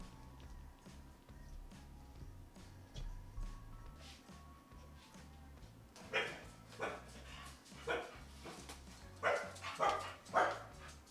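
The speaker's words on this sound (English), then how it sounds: "So the result's always going to be them barking at me when I'm trying to just vibe" Several dogs bark in repeated sharp bursts during the latter half, fairly close and loud, at home while someone makes sushi; the opening stretch is quieter with only faint yips and background hum.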